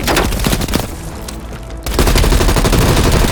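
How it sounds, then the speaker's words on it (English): Heavy machine gun fire pours from a ridge in Call of Duty: Black Ops Cold War, loud, rapid continuous bursts that dip briefly mid-stretch then resume at full intensity, close and dense. "Watch it, heavy MG on the ridge."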